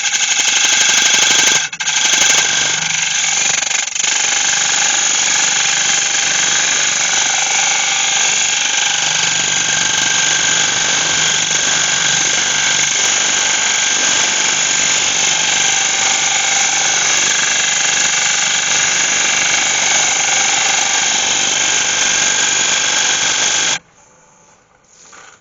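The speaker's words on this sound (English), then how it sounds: "I'm going to use a scraper to do that" A scraper working the inside of an ash bowl spinning on a wood lathe, a loud steady whining drone with a tonal hum that runs unbroken and then cuts off near the end.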